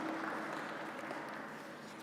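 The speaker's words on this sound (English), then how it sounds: "Can we give him a round of applause," Audience applause at a university partnership anniversary celebration, a steady dense wash of clapping that holds at an even level across the whole stretch, with no voices standing out.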